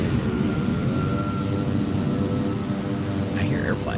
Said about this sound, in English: I hear airplanes.